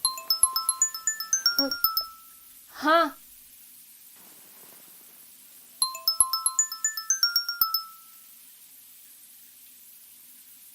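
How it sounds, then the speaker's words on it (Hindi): A mobile phone rings with an incoming call, a bright tinkling melodic ringtone that plays twice in bursts of quick notes, with a brief voice in between and a pause before the second ring. "मेरा फोन आ रहा है यार, देखना किसका है"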